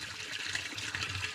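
Water gurgles and trickles in a blocked field drain being rodded, a steady hissing, bubbling flow at moderate distance with no talk.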